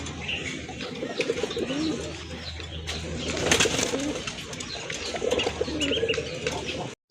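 Caged pigeons coo in soft, rolling bursts close by, overlapping one another steadily, with a brief flutter and no talking.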